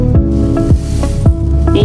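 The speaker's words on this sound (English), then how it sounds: "You have to carefully pour it so that you will not lose some of your media." Microbiology culture media poured steadily into a container, giving a run of about six close, wet glugging gurgles with a continuous liquid wash underneath.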